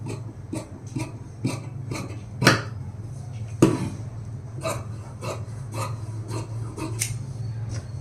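Scissors cut through blouse fabric in a steady series of crisp, close snips about every half second, with a low hum underneath and no talking.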